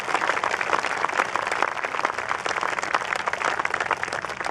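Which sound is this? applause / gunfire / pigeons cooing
applause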